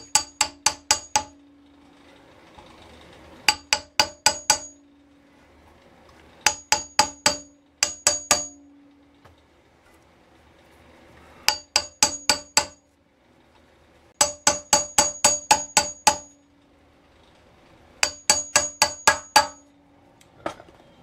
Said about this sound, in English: you can hear how the pitch sounds when you're tapping down, and you can tell how far in you are